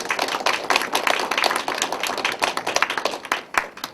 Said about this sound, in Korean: 우리 두 아이와 엄마에게 격려의 박수 부탁합니다